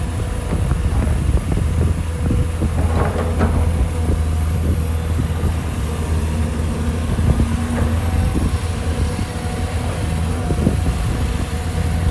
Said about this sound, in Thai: ลมแรงจัดครับ